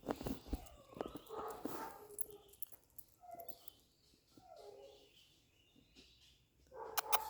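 A goldendoodle yips and whimpers in scattered bursts at middle distance, with short barks and whines coming and going amid quieter gaps.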